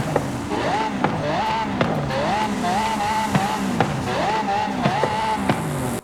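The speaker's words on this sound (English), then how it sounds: "it is coming with a V12 engine, but let's see how it sounds" A high-revving Lexus LFA V12 engine in Forza Horizon 5 screams up and down through repeated gear shifts, sharp pops marking each change, then cuts off abruptly.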